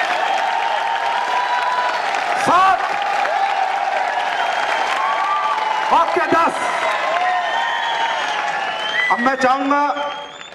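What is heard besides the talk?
audience applause at product launch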